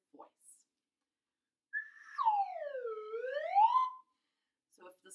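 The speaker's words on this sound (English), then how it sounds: "I want to do is play with my slide whistle." A single slide whistle glides upward, dips down and rises again in one smooth sweep, clear and alone against silence.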